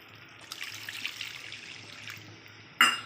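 Water poured into a pan of simmering fish curry (doi katla, Bengali yogurt carp curry), a soft pouring splash building for a couple of seconds, then a sharp louder splash near the end.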